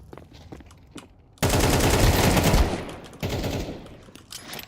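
Video-game AK rifle fire rips out in a loud, fast automatic burst lasting about a second, followed by a shorter burst after a brief gap, with quieter clicks and movement around it.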